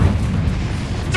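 A Confringo blasting spell explodes in the video game Hogwarts Legacy, a short, heavy, low boom with a rumbling tail.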